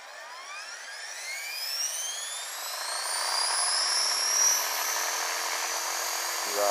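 A 450-size RC helicopter spooling up as the throttle is pushed hard, a rising whine climbing steadily in pitch and loudness, then holding a high steady scream, close by with no talking.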